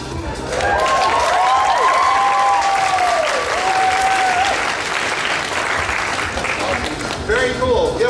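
A costume contest audience at an anime convention applauds loudly and steadily, with a voice speaking over the clapping.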